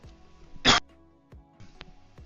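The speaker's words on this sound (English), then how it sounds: "Sorry, I had to cough." One short, sharp cough from a person, close and brief, set against a quiet room with faint low background noise.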